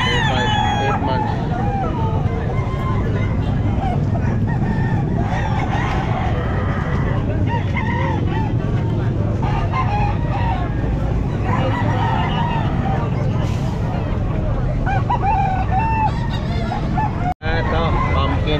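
Gamefowl roosters of the Pumpkin Hatch line crow repeatedly at a busy pet market in Calumpit, with overlapping crows, honks and clucks from other poultry over constant crowd noise and a vendor's talk.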